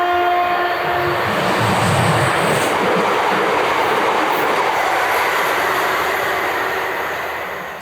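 Train passing through Teynham railway station on the Chatham Main Line, a loud continuous roar of wheels and carriages close by, with a brief horn-like tone early, slowly fading at the end.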